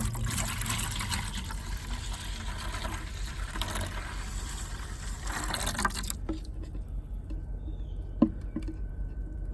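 Old coolant from a Jeep Wrangler's heater core flush poured into a bucket, a steady rushing trickle for about six seconds that then stops, leaving quiet with a small clunk near the end.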